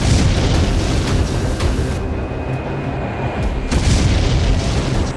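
Missile attack explosion in Smolensk, a loud, sustained rumbling blast with roaring broadband noise that swells again near the end, no voices.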